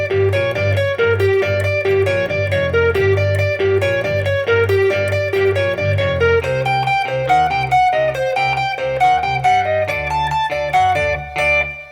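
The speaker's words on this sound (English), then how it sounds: "put my distortion on, and then I can play the melody over the top" Distorted electric guitar playing the melody over the top, a steady run of punchy, close single notes with a gritty edge, alone without talking.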